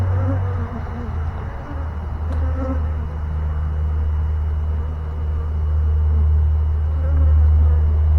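Honey bees from an installed swarm hum in a steady, dense drone close by, joined by a low continuous rumble, without speech.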